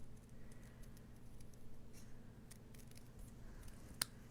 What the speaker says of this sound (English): I'm going to trim a little bit off this side here.